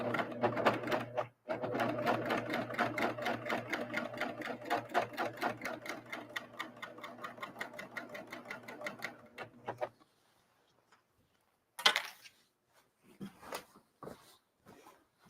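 A serger stitches through thick fabric seams, running loud and fast for about ten seconds with a rapid, even rhythmic chatter, then stops, followed by a few scattered handling noises.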